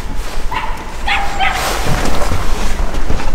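Hunting dogs bark and yip a few times at a distance over a steady outdoor rumble, with a faint voice in the background, during a driven boar hunt in Saxony-Anhalt.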